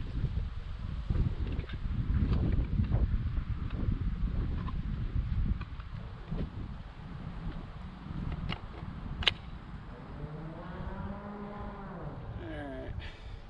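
Wind gusts across an outdoor rifle range during a rifle match, a steady broadband rush throughout with faint rumbling from passing vehicles in the background.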